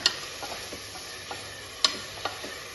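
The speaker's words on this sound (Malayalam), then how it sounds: "അപ്പോൾ ഇതിലേക്ക് തന്നെ രണ്ട് തക്കാളി കട്ട് ചെയ്ത് ഇട്ട് കൊടുക്കാം ഇപ്പം എല്ലാം കൂടിയിട്ടത് നല്ലോണം ഒന്ന് മിക്സ് ചെയ്ത് ഒന്ന് വാട്ടിയെടുക്കാം" Chopped tomatoes sautéed with a rice and masala mixture in a pan: a soft continuous sizzle with occasional light clicks and scrapes from a spoon, close but fairly quiet.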